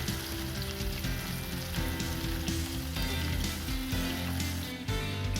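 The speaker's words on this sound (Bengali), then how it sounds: "কড়ায় সর্ষের তেল গরম হলে আঁচ কমিয়ে মাছগুলোকে ছেড়ে দিচ্ছি" Katla fish pieces fry in hot mustard oil in a kadai over lowered heat, a steady, close, crackling sizzle throughout, with background music underneath.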